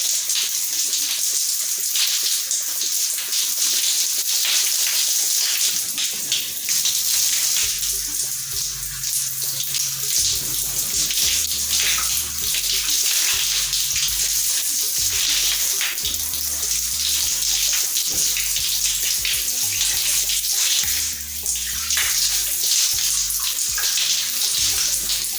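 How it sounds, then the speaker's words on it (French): Running water rinsing a freshly washed section of hair, a steady close hiss of tap water throughout, with a low warbling tone and faint splashes joining in partway. "Voilà comment je rince."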